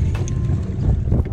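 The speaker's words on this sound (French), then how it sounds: "C'est pas facile avec le vent." Wind rumbles low and steady against the microphone in a brief gust, with no voices.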